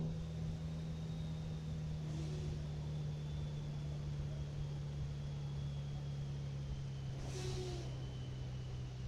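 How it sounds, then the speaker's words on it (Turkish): A steady low Scania R500 truck engine drones throughout in Euro Truck Simulator 2, broken by two short bursts of air-brake hiss, one early and one near the end. "Of o fren sesi de çok iyi ya."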